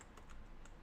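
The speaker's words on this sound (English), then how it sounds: "How do you spell her name? I'll type it out." Keyboard typing, a few quick faint clicks of keys tapped in a short burst, close and quiet with no voice.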